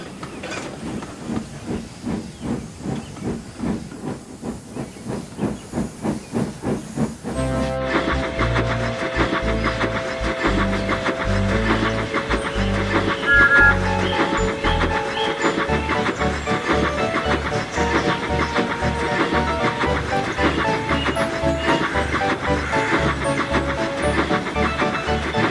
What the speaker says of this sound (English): And Thomas puffed out of the sheds and headed to Knapford.